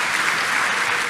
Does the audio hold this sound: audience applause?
yes